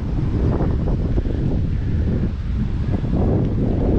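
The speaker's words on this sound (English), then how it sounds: "it's a bit windy and it's a bit rainy today" Wind blowing outdoors on a wet, rainy day, a continuous loud rushing buffet against the microphone with no pauses and no talk.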